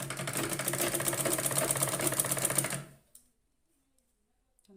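A sewing machine stitches the belt of a four-tuck blouse in a close, steady whirring run of about three seconds, then stops abruptly into near silence.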